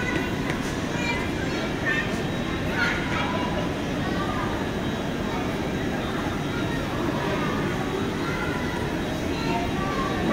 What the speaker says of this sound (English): Well, let's have a look at the trains.